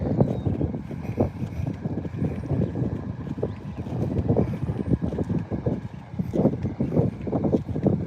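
Wind gusting across a lakeside pier, a steady rough rumble with rising and falling buffets against the microphone, loud and close throughout with no voices.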